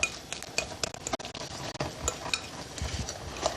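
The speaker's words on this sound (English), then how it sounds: "And we stir," A spoon stirs ricotta cheese filling in a bowl. Quick clinks and scrapes of metal against the dish repeat in an uneven rhythm, close and moderately loud.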